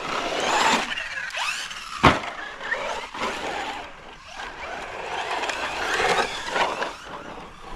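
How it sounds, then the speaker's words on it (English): A CEN Racing Reeper SC radio-controlled short course truck zips around outdoors, its electric motor whining up and down in pitch as it accelerates, turns and passes, with a sharp knock midway. "take out the CEN Reeper SC and see how it performs."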